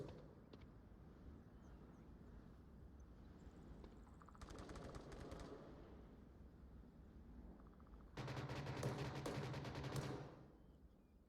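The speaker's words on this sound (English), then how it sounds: "We're hearing lots of gunshots at the moment coming out" Rapid bursts of automatic gunfire ring out in the VR shooter Onward during a competitive VRML match, with two distinct volleys separated by a quieter stretch.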